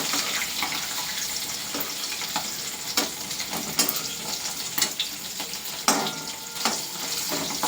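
Washed dried fish (shutki) fries in a pan with a continuous soft sizzle, broken by scattered sharp pops and crackles as it is stirred.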